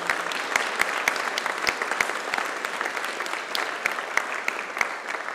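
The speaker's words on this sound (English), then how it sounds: "that's a rehearsal for the applause we're going to give her in a moment" A church congregation applauds a parish reader during a Sunday service, giving a steady, fairly close round of clapping with no talking.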